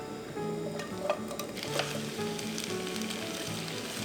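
Potato and carrot pieces sizzle and fry in a generous amount of olive oil for a Korean stir-fry side dish, with a soft steady crackle, occasional stirring scrapes and a couple of sharper clicks close by.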